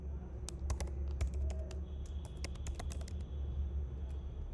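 Fast, irregular clacking of keys on a computer keyboard, close and clear over a low steady hum, with no one talking.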